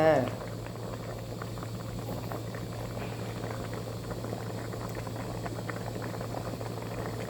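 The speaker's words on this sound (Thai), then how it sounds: "น่าอร่อยไหมคะกำลังเดือดปุ๊บๆเลยค่ะ" Spicy soup rolls at a steady boil in a pot, with continuous close bubbling and churning that holds even throughout while voices talk in the background.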